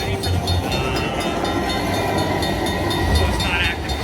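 Train sound effects rumble and chime from a Buffalo slot machine on a busy casino floor, a steady dense mechanical wash with electronic tones and faint talk underneath.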